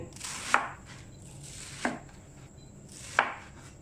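Three crisp knife chops through enoki mushrooms land on a cutting board, spaced about a second and a half apart, close and fairly quiet with no talking.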